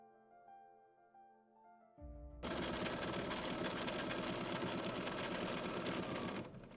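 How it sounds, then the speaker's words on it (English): A sewing machine runs at steady high speed, machine quilting along the stitching lines of a floral faux chenille baby quilt, loud and continuous after a quieter start with softer tones and a brief lower hum. "I'm going to machine quilt following the stitching line, and I'm stippling in the corners to hold it down."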